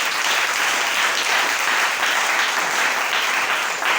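A church congregation at an evangelical service applauding the Lord, dense sustained clapping that fills the room at an even, loud level throughout.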